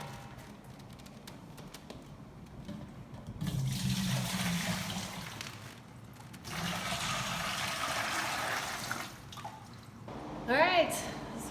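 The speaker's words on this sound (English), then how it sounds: "we got our Berkey water filter. You can hear it. Sounds like it's filtering really fast." A Berkey water filter runs water through, a steady trickle and drip that swells and fades in long stretches, close by with faint voices in the background.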